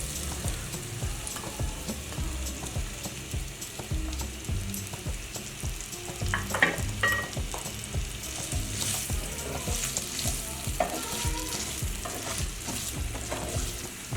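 Chopped potatoes fry in hot oil in a pan, a dense continuous sizzle and crackle heard up close, with occasional stirring knocks and scrapes throughout and no voices.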